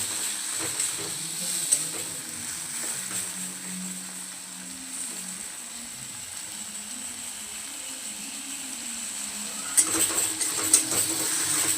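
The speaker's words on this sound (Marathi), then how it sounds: "यामध्ये मी थोडंसं किंचित असं पाणी टाकते ज्यामुळे आपले टोमॅटो मसाले छान व्यवस्थित होईल" Water poured into a pan of sizzling tomato masala gives a steady close hiss and frying crackle that runs throughout, swelling briefly near the end with a few clinks of a utensil.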